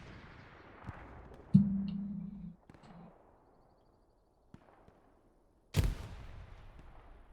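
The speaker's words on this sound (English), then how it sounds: "So he's going to hear those explosions" In the game Battle of Tannenberg, a deep explosion booms and rumbles briefly, followed after a pause by a sharper, louder blast; faint background noise fills the gaps.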